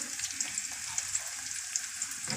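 Vegetables and tomatoes sauté in a hot pan, a steady close sizzle with small crackles and spatters throughout, no voices.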